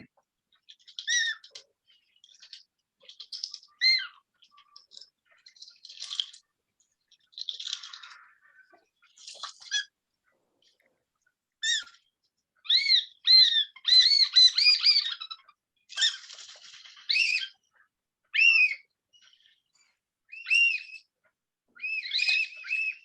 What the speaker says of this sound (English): Oyster catcher.